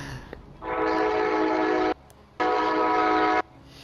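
The armoured train in the Battlefield 1 game blasts its horn twice, long sustained loud tones with a short gap between them, heard close and over faint background game noise.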